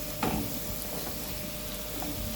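Chopped vegetables, carrot and pepper added to onions, sizzle in hot oil in a home pan while cabbage is being fried, a steady dense crackle with a few louder spits, close and continuous, no talking.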